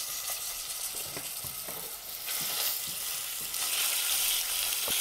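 Minced meat sizzling and crackling in olive oil in a hot pan, a steady loud fry with occasional stirring scrapes and pops, no talking.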